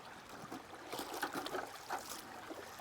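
Water poured from a clean bucket to wash out sluice box carpets, a soft, steady trickling and splashing flow with faint irregular gurgles, fairly quiet and alone.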